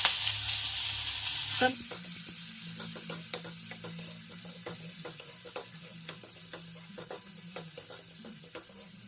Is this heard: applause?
no